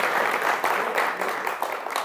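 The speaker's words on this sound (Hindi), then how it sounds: "इनके लिए जरा तालियां बजाए" An audience at a poetry gathering breaks into applause, a brief steady patter of clapping with slight pulsing over two seconds, fairly faint and unaccompanied by speech.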